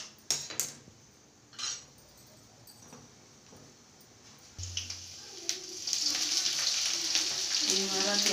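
Onion, garlic and cumin frying in a pan, a few metallic utensil clinks and scrapes early on, then a steady sizzle swells up in the last few seconds, close by with no talk.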